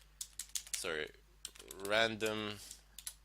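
A file name is typed on a computer keyboard in quick bursts of close, crisp key clicks, while a voice speaks briefly in the middle.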